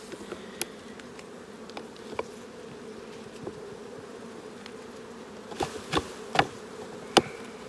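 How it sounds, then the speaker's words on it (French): Honey bees buzz in a dense, continuous drone from an open hive crowded with bees. Scattered sharp taps and knocks from frames or tools stand out near the end. "Il y a vraiment beaucoup d'abeilles"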